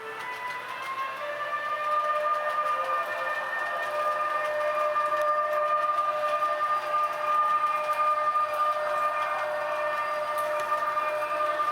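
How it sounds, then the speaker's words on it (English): A model railroad train runs on a layout controlled by Traincontroller, giving a steady, even mechanical whine and hum that holds at one level with no voices. "Here the train has started."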